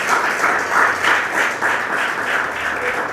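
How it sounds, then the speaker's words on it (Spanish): A church congregation gives a hearty round of applause during a Spanish-language service. The many-handed clapping is steady and full, swelling in gentle waves for a few seconds with no talk over it. "Bríndele un fuerte aplauso al Señor."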